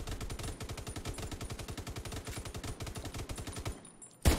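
Rifle gunfire in the video game The Division 2: a fast, steady stream of automatic shots rattling on for about four seconds before stopping, loud and close, followed by one sharp final impact.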